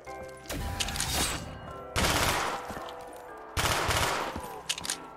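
A gun fires in bursts in a Minecraft take on Call of Duty Zombies, three loud rapid volleys separated by brief pauses, with no talking.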